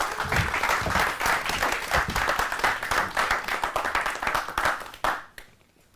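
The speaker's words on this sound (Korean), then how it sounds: "박수로 기대하는 마음으로 맞아주셨으면 좋겠습니다" Audience applause welcoming a speaker on stage, with dense, lively clapping from a crowd that holds strongly for about five seconds and then quickly dies away.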